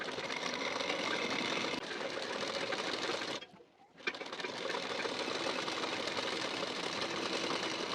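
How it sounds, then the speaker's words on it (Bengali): A sewing machine stitches the sleeve seam of a puff sleeve blouse with a fast, even whirring chatter, pausing briefly midway before running steadily on. "বসিয়ে নিয়ে এখান থেকে সেলাই দিয়ে নেব।"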